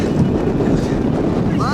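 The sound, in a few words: brutal wind coming from the glacier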